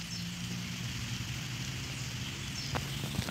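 Light drizzle falling under a canopy of trees, a steady soft hiss of fine raindrops that stays fairly constant, with a few slightly sharper drop taps near the end.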